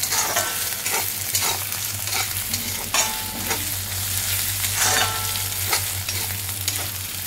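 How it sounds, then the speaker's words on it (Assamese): Chicken fries in a pan with ginger and garlic for a simple curry, a constant close sizzle punctuated by repeated scraping knocks of a spatula stirring at irregular intervals. "আদা নহৰু কেঁচা গোন্ধটো গ'লে মই চিকেনটো দি দিম আৰু ইয়াত"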